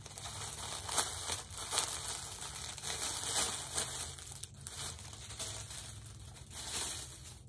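Plastic packaging crinkles and rustles up close as it is pulled open, with scattered crackles and tearing sounds throughout, fairly quiet.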